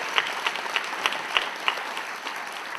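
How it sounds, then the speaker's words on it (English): Brief audience applause at the Legacy Awards 2010 ceremony, a moderate room of clapping with a few sharper individual claps standing out, steady and short. "Let's give them a round of applause for that."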